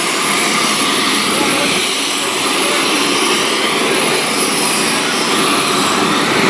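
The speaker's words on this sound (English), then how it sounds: "So that's the shape of this V22 Osprey." A US Air Force V-22 Osprey tiltrotor's engines roar loud and close at a landing in Chuuk, a steady, unbroken wash of broadband noise with voices faintly beneath it.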